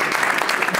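Brief burst of dense applause from a group at a tourism planning gathering, continuous clapping filling the short moment without pause.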